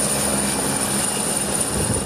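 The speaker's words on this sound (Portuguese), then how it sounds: "o governo do estado enviou de helicóptero novas doses para os municípios do interior" Helicopter flying vaccine doses out to interior towns in a Brazilian state, a steady loud rotor and engine drone that holds evenly throughout with a constant high whine on top, no voices.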